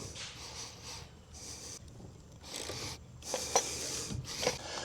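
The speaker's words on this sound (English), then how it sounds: "I'm gonna use just a regular ratchet to loosen them up." Rough, rasping ratchet strokes loosen nuts in short, repeated bursts with brief pauses between, close and moderately loud.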